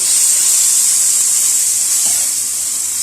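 Minced meat (qeema) hitting a hot pan gives a loud, steady sizzle and hiss that holds evenly for a few seconds, with no talking.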